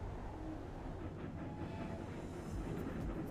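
Trains running in the railway management game Railroad Corporation 2, a steady low rumble of rolling rail traffic with faint clatter, continuous and moderately distant, no talking.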